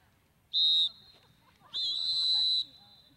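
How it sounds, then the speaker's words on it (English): A referee's whistle at a women's college lacrosse game gives two sharp, shrill blasts, a short one and then a longer held one, over faint background noise. "And we have a whistle on the draw."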